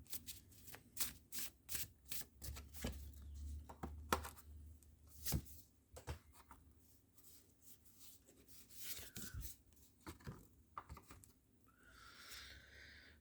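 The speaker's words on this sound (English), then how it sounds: "I'm going to grab some astrology cards here." Astrology cards shuffled by hand, a quiet close-up run of soft papery riffles and flicks in quick irregular bursts, with a few louder slaps along the way and light rubbing near the end.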